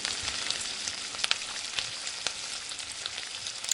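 Fried soya chunks and potatoes land in hot, oil-releasing masala on low flame, giving a soft, even sizzle with scattered light crackles and stirring taps.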